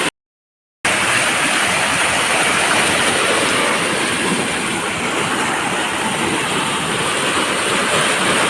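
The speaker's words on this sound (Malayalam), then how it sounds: "നല്ല കുത്തി ഒഴുക്കുള്ള സ്ഥലമാണ്" A fast-flowing stream rushes through fields in the rain, a loud constant roar of water that starts after a brief silence and holds steady without voices.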